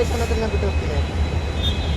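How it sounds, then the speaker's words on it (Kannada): A Bengaluru metro train passes with a continuous, steady low rumble and rushing roar that holds at an even loudness throughout. "ಮೆಟ್ರೋ"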